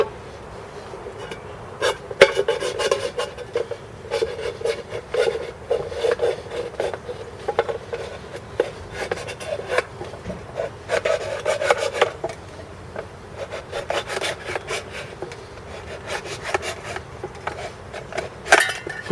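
An Emerson CQC-7 folding knife blade carves into wood in a hard-use test, with close repeated scraping and rasping strokes and occasional sharper cracks, steady and uneven over the whole stretch without speech.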